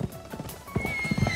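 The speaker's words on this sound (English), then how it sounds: "I will not let you murder me with a horse" A horse in the South Park: Stick of Truth video game gallops with quick hollow clip-clop hoofbeats and lets out a short whinny, brief and fairly close against faint game background sound.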